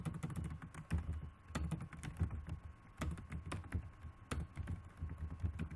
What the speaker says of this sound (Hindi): जैसे कि मैं यहाँ टाइप करता हूँ